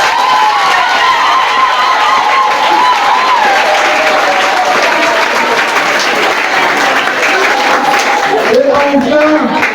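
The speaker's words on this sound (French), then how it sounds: "je voudrais que vous puissiez très sincèrement applaudir pour vos parents" A school audience at a Catholic school prayer and solidarity day applauds its parents with steady, dense clapping and some cheering that fills the hall for the whole stretch, with children's voices mixed in.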